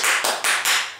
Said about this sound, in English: 4 claps, or according to our son, it's 6